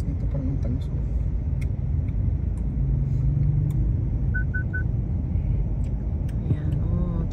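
Car traffic rumbles steadily near an underpass, a low continuous drone with a few faint horn beeps partway through. People talk in the foreground.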